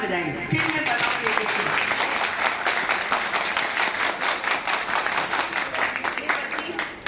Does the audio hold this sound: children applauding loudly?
yes